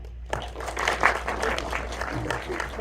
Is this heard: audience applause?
yes